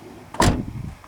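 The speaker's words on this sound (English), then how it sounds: "let's see how the door closes with one." A Chevy HHR car door swings shut with one solid, close thump after its check strap has been replaced. A short, faint rattle trails off afterward.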